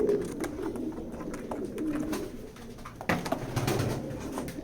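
Racing pigeons coo at a pigeon loft, soft throaty coos repeating close by over a low, busy background with a brief knock partway through.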